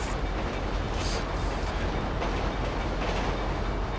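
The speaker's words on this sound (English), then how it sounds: "And then there's a train." Train passing in the video game GTA 5 Online, a steady broadband rumble and rattle of rail cars running continuously at fairly close range with no voice over it.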